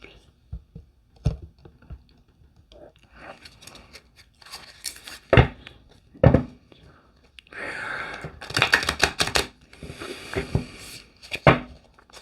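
Soft papery shuffling of a tarot card deck in several bursts, with light rustles and taps between, close and fairly quiet, with occasional murmured speech.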